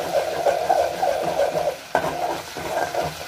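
Ginger-garlic paste fries in a pan for a chicken fry; a close, continuous scraping stir rides over a soft sizzle, broken by a brief clunk midway.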